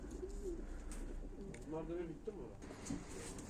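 A pigeon in a fancy loft bird with feathered feet coos in low, repeated throaty phrases, close and clear over a steady background hum, with a voice speaking faintly at moments.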